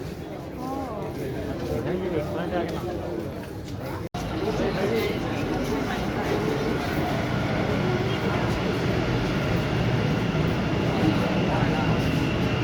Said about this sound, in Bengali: মেট্রো এসে গেছে এবার উঠে পড়বার পালা